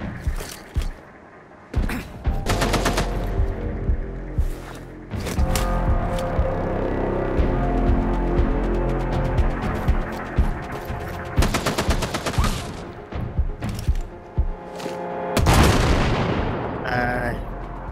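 Sustained bursts of rapid automatic machine-gun fire in the video game Sniper: Ghost Warrior Contracts, dense and loud, with clattering mechanical effects and brief pauses between volleys.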